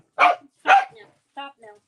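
Small dogs barking indoors, two sharp close barks followed by a pair of higher whining yips, each loud and brief.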